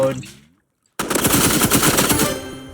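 Rapid automatic gunfire from the Roblox shooter Rivals bursts in loud and close after a brief silence, firing in a fast continuous stream for well over a second before tapering off.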